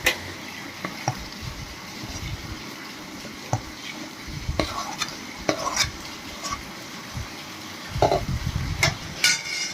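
Peanut mandvi pak mixture stirred in a pan, with soft, irregular scraping and dull knocks of a spoon against the pan over a low, faint sizzle, close by and without speech.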